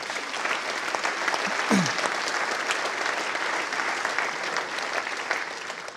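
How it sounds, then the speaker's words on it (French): Audience at a regional economic forum applauding Achille Crivelli, a steady, dense wash of many hands clapping throughout, with a brief voice rising over the applause partway through. "On peut l'applaudir"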